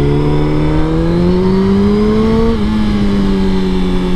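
A Suzuki GSX-R 1000 motorcycle engine revs loudly and steadily, its pitch climbing for a couple of seconds, dipping briefly, then holding high in a continuous screaming drone with no talk over it.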